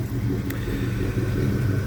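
A 1984 Chevy C10 pickup engine runs in a steady low rumble, close and continuous with a slight lumpy pulse, with no talk over it.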